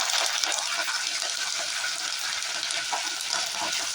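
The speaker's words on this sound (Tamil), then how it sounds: "பூண்டு நல்லா ஃப்ரை ஆகட்டும்" Garlic sizzles and crackles in hot oil in a pan while crab curry is being cooked, a steady, dense frying hiss lasting throughout with no voices.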